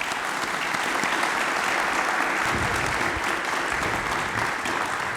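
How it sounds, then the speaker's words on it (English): After a lecture in astronautics, an audience fills the hall with steady, dense applause that holds at an even level throughout. "We have one more final round of applause for Dr. Fugate"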